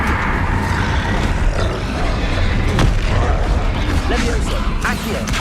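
A fire spell is cast in Hogwarts Legacy, a loud continuous blaze of roaring flame and booming impacts that stays dense and full throughout, with a few sharper crackles on top.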